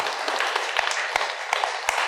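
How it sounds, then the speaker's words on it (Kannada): An audience at a meditation talk claps and applauds, with a few sharp handclaps standing out over a steady wash of crowd noise. "ಇದಕ್ಕೆಲ್ಲ ಕಾರಣಭೂತರಾದ ವಿಶ್ವಶಕ್ತಿ, ವಿಶ್ವ ಮಾನವ ಬ್ರಹ್ಮಶ್ರೀ ಪಿತಾಮಹ ಪತ್ರಿಜಿ ಅವರಿಗೆ ಜೋರಾಗಿ ಚಪ್ಪಾಳೆ ಬರಲೇಬೇಕು."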